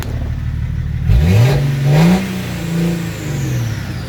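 A BMW M57d30 diesel engine swapped into a 1963 Ford F100 revs up from a steady idle, rising and falling in two or three close throttle blips before settling back, loud and alone.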